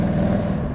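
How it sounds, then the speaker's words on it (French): Engine of an 800 hp BMW M4 CS with its turbos winding down after lifting off, a loud steady low rumble close by, easing slightly toward the end, no voices. "Tu sens la descente des turbos et tout, si tu entends bien"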